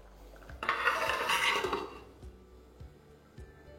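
Chicken curry mixed in a pan, a burst of close scraping and stirring for about a second, then a few light clinks of a utensil against the metal.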